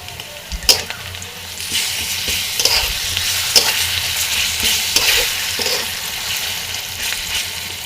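Ginger-garlic paste and green chilies stirred and fried in a pan with pui shak seeds, a steady close sizzle broken by repeated sharp scraping strokes of the spatula, with no talking.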